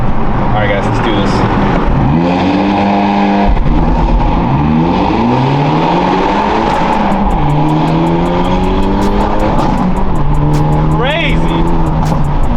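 A straight-piped Hyundai Elantra N accelerates hard through several gears, its loud raspy exhaust rising in pitch with each pull and dropping at shifts, with crackles near the end and a voice talking underneath.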